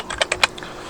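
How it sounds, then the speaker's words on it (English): Typing on a computer keyboard while entering a search in an online tabletop game tool: four or five quick, crisp key clicks in a short irregular burst, close and fairly loud, then quiet. "and start typing in"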